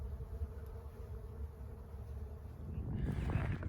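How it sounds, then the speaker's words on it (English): Large bees swarm in a desert tree, a continuous low droning buzz close by with some wind rumble, swelling louder near the end. "Yeah, the tree's full of bees. They're really big bees."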